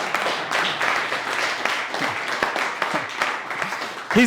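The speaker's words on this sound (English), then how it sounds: "Give him a big round of applause" Steady applause from an audience at a business event on AI, dense continuous clapping at moderate level, ending with a brief voice.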